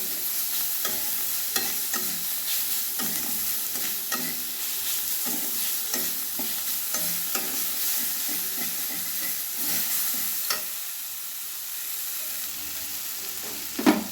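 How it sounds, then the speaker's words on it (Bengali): Ginger-garlic paste fries in oil in a pan, a continuous hissing sizzle with repeated scraping stirs throughout, fairly close and steady with no talking. "এই সময়ে আদা রসুন বাটাটা আমি দিয়ে দিচ্ছি, আর একটু ভেজে নেব যতক্ষণ কাঁচা গন্ধ চলে যায়"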